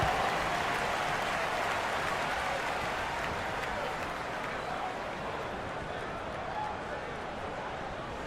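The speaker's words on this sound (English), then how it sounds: "Let's give them a big round of applause." Steady crowd applause at an NBA game between the Detroit Pistons and Philadelphia 76ers fills the arena, a dense wash of clapping holding fairly even with a faint murmur of voices underneath.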